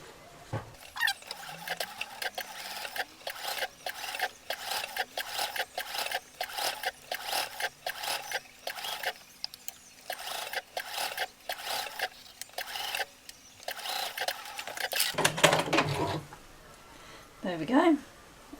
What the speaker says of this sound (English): we'll just sew up this side seam